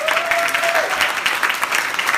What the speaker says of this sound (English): Everybody give Lou a hand clap.